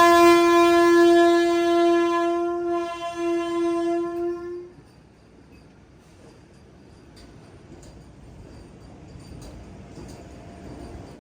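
At a station platform, the Visakhapatnam–Tata Nagar Express sounds a loud, sustained horn for nearly five seconds, then a low, steady rail rumble takes over with faint clanks in the distance.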